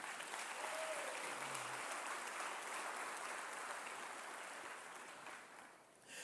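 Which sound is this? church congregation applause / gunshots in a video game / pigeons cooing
church congregation applause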